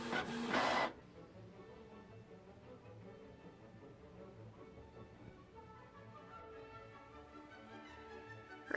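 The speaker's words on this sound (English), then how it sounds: "we are now going to print a test page" A Canon Pixma TS202 inkjet printer whirs and clatters as it prints a test page, a short burst of sound at the start followed by a soft, steady mechanical churn with faint clicks.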